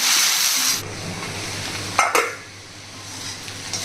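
Okra pieces fry in a pan and are stirred now and then. A loud sizzle drops sharply after the first second, leaving a quieter hiss broken by a brief clatter of stirring.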